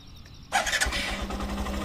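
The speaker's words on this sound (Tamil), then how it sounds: "நான் கிளச்சை வந்து பிடிச்சேன்னா இப்போ பைக் ஸ்டார்ட் ஆகும்." A 2025 Hero Super Splendor 125 Xtec BS6.2 motorcycle with i3S start-stop fires up with a short starter whirr, then settles into a smooth, even idle heard close up, with no talking.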